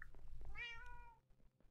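A house cat gives a single clear, close meow that rises and then falls, with faint room noise around it.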